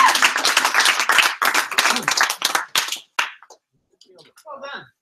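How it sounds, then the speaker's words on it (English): Audience at a kids' event clapping loudly and close by, a dense burst of hand claps for about three seconds that breaks off abruptly, leaving silence and a brief faint voice. "let's give him a round of applause."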